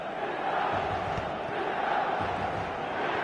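Stadium crowd in the football video game eFootball, a dense roaring murmur of cheering and applause that stays level throughout, with no commentary over it.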